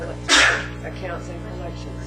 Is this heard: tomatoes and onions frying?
no